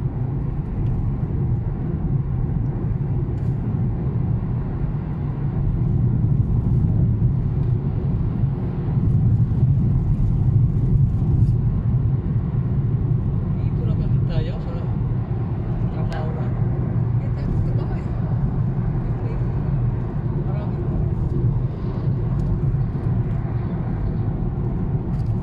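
A car drives through road traffic on a road trip from Al Khobar: a dense, steady low rumble of engine and tire noise carries on throughout, with no break.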